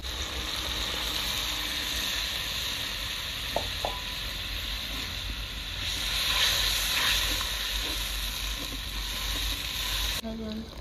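Hot pan sizzling steadily as water goes in while Rui fish biryani gravy cooks, a broad continuous hiss with a brief swell midway, a couple of faint clicks, and no talking.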